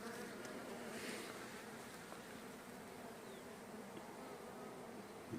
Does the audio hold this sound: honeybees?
yes